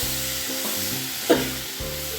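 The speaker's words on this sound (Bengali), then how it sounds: "মশলাটা ভাজা হয়ে গেছে" Spices frying in a pan for a vegetarian Bengali mixed-vegetable curry give a continuous close sizzle over a steady tonal hum, with one short louder stir-like burst.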